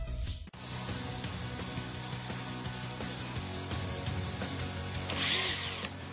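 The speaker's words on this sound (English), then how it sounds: "I think we have enough to help reattach Swoops' rotor" Power tools at work repairing a helicopter's rotor in a Blaze and the Monster Machines game, a steady drill-like whirring over a musical game soundtrack, with a brighter burst near the end.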